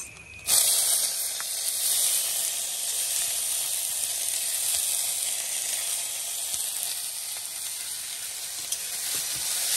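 Shrimp dropped into hot oil with cumin seeds burst into a loud, close sizzle that starts abruptly and holds as a steady frying hiss, with occasional small pops and stirring.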